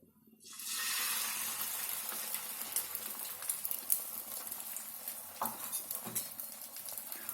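Beaten eggs hit a hot pan for egg kalakki, giving a sudden broad sizzle that settles into a steady, close frying hiss, with a few soft utensil clinks and scrapes near the end.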